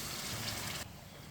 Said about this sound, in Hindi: अब इसमें पानी डालेंगे। ये 1 गिलास पानी